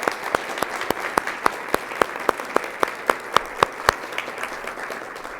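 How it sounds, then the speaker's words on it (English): Applause at a school board of education meeting, honoring a donor family: a few people clap in a regular, crisp rhythm, each clap sharply distinct, close and clear with little else around. "So let's give them a round of applause."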